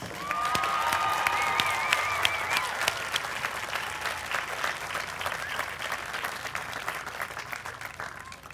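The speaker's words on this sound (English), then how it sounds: "Let's give a round of applause for all the graduates." Graduates at a Millersville University spring commencement in 2012 receive sustained crowd applause, dense clapping that starts strong, carries a few cheers and whistles early, then slowly thins.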